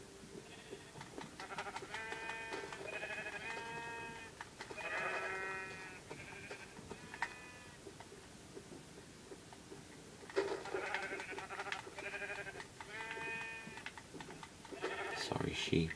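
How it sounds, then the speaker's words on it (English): Sheep bleat in the blocky survival game Minecraft, several repeated wavering calls in two clusters, moderately loud, with a soft ambient backdrop between them. "there are the sheep"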